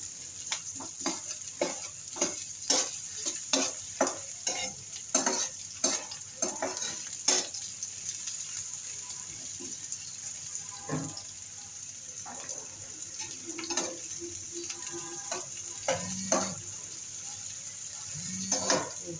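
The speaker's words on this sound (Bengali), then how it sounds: "পেঁয়াজ আর রসুন কুচি একসাথে একটু নেড়ে চেড়ে এটাকে হালকা বাদামি কালার করব।" Chopped onion and garlic fry in hot oil while a spatula stirs and scrapes the pan in frequent sharp taps over a faint continuous sizzle, with a few later bursts of sizzling.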